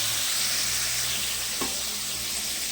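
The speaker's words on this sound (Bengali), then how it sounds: "ভোলা মাছ ভাজা হচ্ছে, শোল মাছও ভাজা হচ্ছে" Pieces of shol (snakehead) and bhola fish fry in hot oil in a pan, giving a loud, continuous sizzle with one brief stirring scrape partway through.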